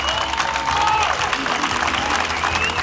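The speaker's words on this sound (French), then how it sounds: "Vous méritez ces applaudissements" Sustained crowd applause at an awards event, loud, steady clapping from a large audience with a faint voice and whistle-like tones mixed in.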